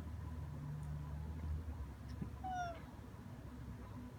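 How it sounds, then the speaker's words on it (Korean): A cat meows once with a clear, rising-then-falling call, heard alone over a low steady hum of background noise. "한 번만 더 냐옹 해봐"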